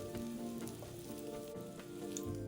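Steady close sizzling and bubbling of taro rolls in beancurd skin frying golden in a pan of oil, a continuous crackle with a few brighter pops, no talking over it.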